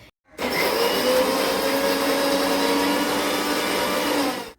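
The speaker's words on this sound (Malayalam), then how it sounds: "ഇതെല്ലാം കൂടെ ജാറിൽ ഒന്നിട്ട് ചതച്ചെടുക്കാമെന്ന് കരുതി." Mixer grinder jar crushing chopped ginger and garlic: a loud, steady whirring motor roar that starts abruptly, runs for about four seconds and cuts off, close up with no talking.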